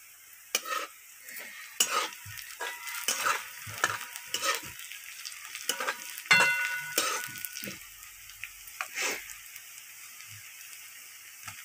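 Onion and garlic frying in a pan, a run of sharp spatula scrapes and clacks against the pan at an irregular pace over a faint low sizzle, close and alone.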